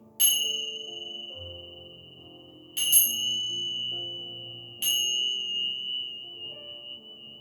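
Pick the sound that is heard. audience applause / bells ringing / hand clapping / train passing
bells ringing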